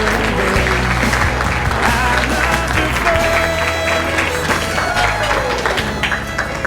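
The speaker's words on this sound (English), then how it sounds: "ladies and gentlemen, let's give them a round of applause" Wedding reception guests applauding a couple, loud dense clapping and crowd noise close by, with music or chatter underneath and a slight fade near the end.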